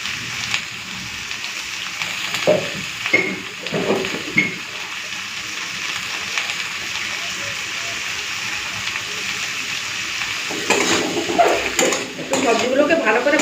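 Mixed vegetables are added to fried onions in a pan for a breakfast curry, giving a steady sizzle with intermittent utensil scrapes and clatter, growing louder and busier near the end.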